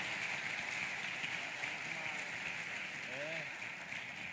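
Church conference congregation applauding, a sustained wash of clapping with a voice briefly rising over it near the end.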